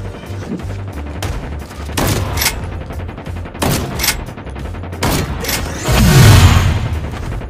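Shotgun fire in a COD Mobile battle royale match, several loud, close blasts in quick bursts with thuds and mechanical clatter between them.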